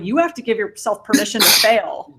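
A single sharp sneeze bursts out partway through a woman's speech during a talk on fear of rejection, loud and close, with her voice continuing on either side of it.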